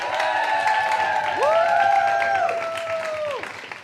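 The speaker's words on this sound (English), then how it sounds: "Let's give these guys a round of applause once more." An audience at a poetry slam claps and cheers in a steady, dense wash of applause, with rising whistles and whoops cutting through the crowd noise.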